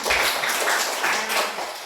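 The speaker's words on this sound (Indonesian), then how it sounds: "tepuk tangan untuk kita semua" Brief group applause in a school workshop session, a close, even patter of many hands that keeps going steadily for about two seconds.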